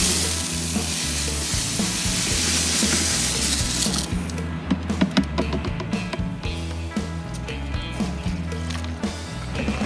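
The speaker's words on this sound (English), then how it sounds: "once the rice is all stirred in" Rice stirred into jambalaya in a 15-gallon cast iron cauldron: a steady loud sizzle and frying hiss at first, then scraping stirring strokes in irregular bursts against the iron.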